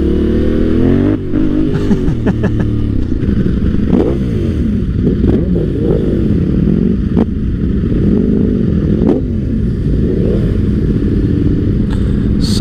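Several motorcycles, including a Yamaha T7 among sports bikes, ride in a group with engines revving and surging in waves, loud and close throughout, with gear changes and throttle blips layered over a continuous multi-engine roar.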